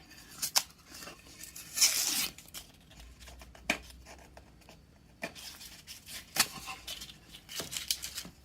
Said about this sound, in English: pull the tape off.